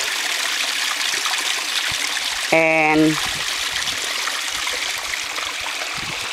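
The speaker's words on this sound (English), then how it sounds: "I am in this little creek here" Water flows steadily through a small rocky creek with exposed bedrock, a continuous broad rush close to the listener, briefly overlaid by a short tonal sound and a spoken word.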